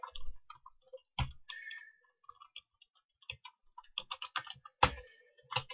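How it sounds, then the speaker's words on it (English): Typing on an English-layout computer keyboard, quick irregular bursts of key clicks close up with a few heavier thumps, quiet gaps between strokes, no talking. "stupid English keyboard"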